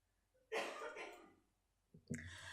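At a committee meeting, a close, forceful cough bursts out, then after a short pause a second rougher cough follows, with quiet in between.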